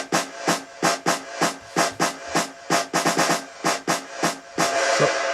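Electronic dance track with a steady four-on-the-floor kick, the full mix ducking and swelling back between each hit in a pumping sidechain rhythm, loud and close, no voices.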